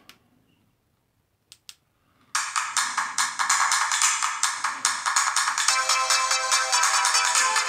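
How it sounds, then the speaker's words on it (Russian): Music plays from the small speaker of an Alcatel One Touch Tribe 3003G phone: after a few faint clicks and near silence, a bright, tinny melody starts suddenly and continues loudly in a pulsing rhythm. "Можно слушать музыка, которая расположена в телефоне."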